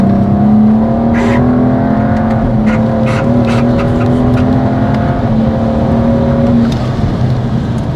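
A BMW 135i E82 with the N55 engine, DKG gearbox and Stage 2 tune pulls hard through the gears, its engine drone rising steadily and loud inside the car, with brief shift breaks and no talking.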